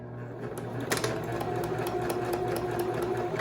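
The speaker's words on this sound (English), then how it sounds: "Back stitching all the way to the edge and then going forward." A sewing machine back stitches through tote bag fabric, a steady close mechanical whir with fast rattling needle strokes and a low motor hum running continuously and moderately quiet.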